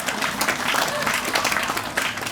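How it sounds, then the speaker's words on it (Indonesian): An audience at a religious lecture claps briefly. The close, busy clapping has some voices mixed in. "Tepuk tangan untuk Abang Madura kita"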